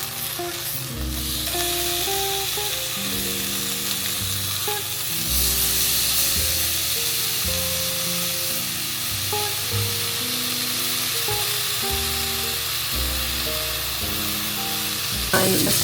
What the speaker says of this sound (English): Put a tiny bit of oil in the pan and you're good to go.